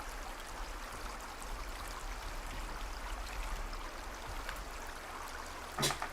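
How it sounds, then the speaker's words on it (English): Quiet ambient river ambience plays as background during a tabletop Pathfinder game, a steady soft wash of flowing water with a brief brighter splash near the end, no talking. "Quiet river noises."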